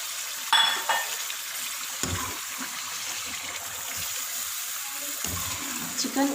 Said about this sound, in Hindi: अब हम इसमें चिकन ऐड करेंगे।